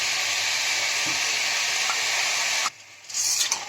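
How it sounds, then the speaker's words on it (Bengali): Whole spices, ground spices, whole green peas, whole sugar and soaked mung beans sauté together in a pan for a Bengali gota sedhho dish. A steady, loud sizzle holds for nearly three seconds, then cuts off abruptly before brief scraping and stirring. "আমি সবগুলো একসঙ্গে একটু সাঁতলে নিচ্ছি"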